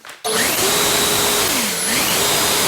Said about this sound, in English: my new favorite tool in the shop is the Ego cordless leaf blower